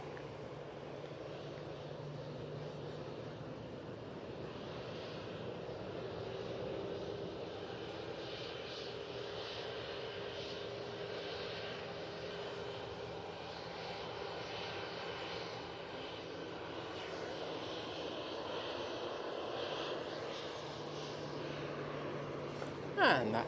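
An EasyJet airliner heads for Milan, lining up on runway 23 left, with a low, steady engine drone running under the whole stretch that swells slightly midway, while a voice talks over it.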